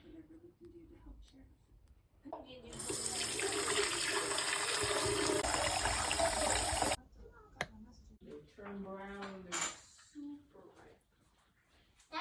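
Water runs from a tap, being warmed for an apple cider vinegar loc detox rinse: a steady, loud gushing stream for several seconds that stops abruptly, then a voice speaks softly.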